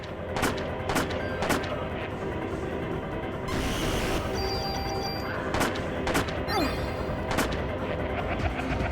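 Gunfire rings out in the video game Parasite Eve as sharp, loud shots crack at irregular intervals, with a short burst of noisy blasts in the middle and more single reports toward the end.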